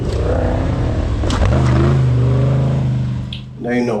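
The No Limits Ultra4 off-road race car, number 13, from a Polish team at King of Germany 2025, revs hard and close, its engine surging and holding high before dropping, with a commentator talking over it.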